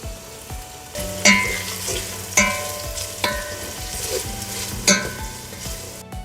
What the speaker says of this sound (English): I just want to saute the onions now